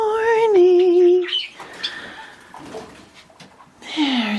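Pet birds in a home aviary, including Java finches and a Kakariki, call in the morning with clear whistled chirps at the start and end, a dog-like sound mixed in and quieter rustling in between.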